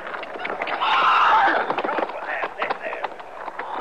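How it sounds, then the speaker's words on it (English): A horse on a western radio drama makes a neigh and scrambles up, with hoof clatter and shuffling close by, while voices talk over the commotion. "How about the horse, Chester?"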